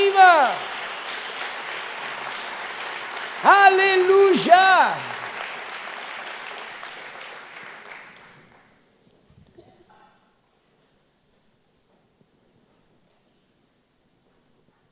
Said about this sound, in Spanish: Denle un fuerte aplauso a Jesús por esta palabra.